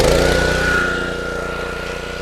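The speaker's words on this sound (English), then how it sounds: "Good old Honda motor should start right up." A Honda motor runs loud and close with a steady, rough idle, throbbing evenly and easing slightly in volume.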